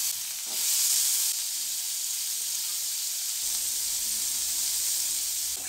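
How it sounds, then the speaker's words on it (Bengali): Cut potatoes fry in a little oil in a wok, giving a steady, close sizzle and hiss that runs alone without talk. "এবার কড়াইয়ে সামান্য তেল দিয়ে ওই কেটে রাখা আলুগুলো ভালো করে ভেজে নিলাম।"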